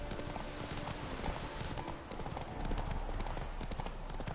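Horse galloping in The Witcher 3, fast rhythmic hoofbeats pounding continuously and close, with a voice talking over them.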